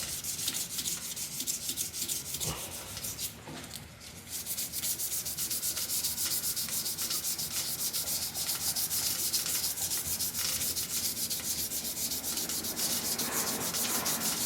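Steady, high-pitched abrasive rubbing of sandpaper against a spinning acrylic pen blank on a mini lathe, continuous with a brief dip midway.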